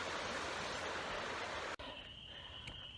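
Steady, loud broadband rush of a waterfall at a campsite, continuous for most of the stretch before cutting abruptly to a quieter, thinner background of flowing water.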